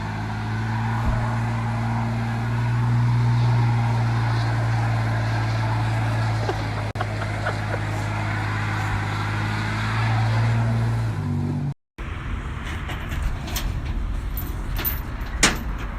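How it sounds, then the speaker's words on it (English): A vehicle engine runs steadily in a shop with a strong low rumble and a rising rev, then cuts off abruptly, followed by a brief clatter and scattered light knocks. "Just rev it a little bit."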